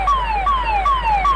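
Fire brigade siren at a roadside truck fire, a loud wailing tone that sweeps downward in repeated cycles about every 0.4 seconds, steady and close with no voices.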